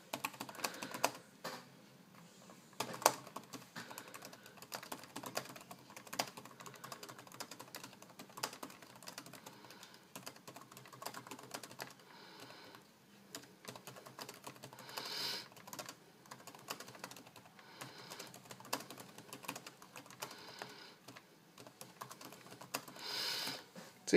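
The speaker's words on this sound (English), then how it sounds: "this is the best keyboard that I have ever typed on" Steady, quiet typing on a laptop keyboard, soft clicky keystrokes in a continuous, irregular rhythm with occasional louder taps, close up and alone for over twenty seconds.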